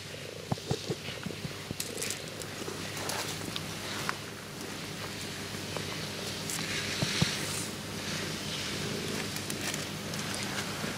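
A cat rolling over to be petted purrs softly and continuously at close range over a steady low rumble, with a few light taps and rustles scattered throughout and no talk.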